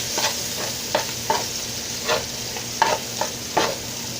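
Onions, ginger and garlic frying in margarine for papaitan, a steady sizzle punctuated by repeated spatula scrapes and stirs at an irregular rhythm, close and without speech.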